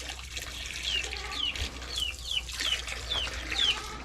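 Chickens on a farm in the Philippines, a series of short high chirps and clucks repeating roughly every half second over a faint outdoor background, moderately close.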